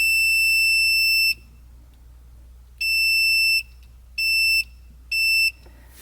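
A multimeter beeps during a continuity check on a car's gauge wiring, giving four steady high-pitched electronic tones of uneven length separated by quiet gaps over a low background hum, with no talk.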